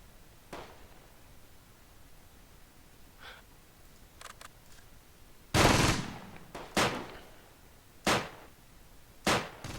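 Gunfire and mortar fire in the WWII strategy game Close Combat: Gateway to Caen: scattered faint shots early on, then several loud, sharp blasts and bursts over the last four seconds, with no talking.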